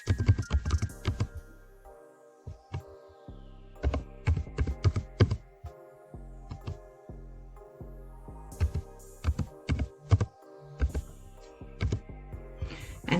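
Keystrokes on a computer keyboard while entering a checkbox option in Google Forms, tapping in irregular bursts and short runs with pauses between, close and clear with no talking.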